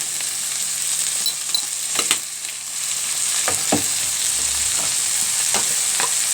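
Chicken liver and gizzards fry with onions in a pan, a constant close sizzle broken by several sharp clacks of a spoon stirring and scraping, with no talking.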